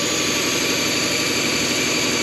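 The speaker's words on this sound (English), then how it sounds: "The car is running. That's an improvement." A Lexus engine idles on its first start in ten years with a steady, loud, continuous drone and a rough low rumble, close by and without voices.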